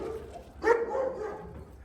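A dog gives a single short bark near the middle, close by, over a noisy background, with a faint whine before it.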